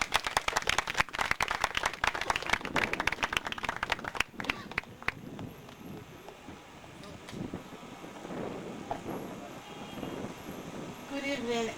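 Applause from the audience at a pitch night in Freetown, a burst of claps for a coffee roasting and catering founder that thins after a few seconds into murmuring crowd noise and scattered sounds.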